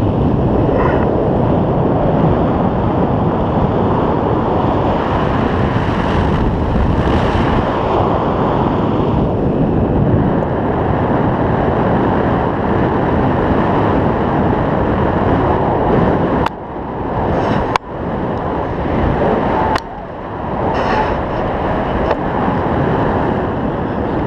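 Strong wind at a paragliding site roars and buffets the microphone nonstop, with rushing gusts and a brief lull near the end; no voices.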